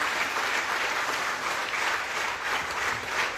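A business meeting audience about direct selling claps together, a dense, even wash of applause from many hands, continuous and fairly close, with no pauses over the few seconds.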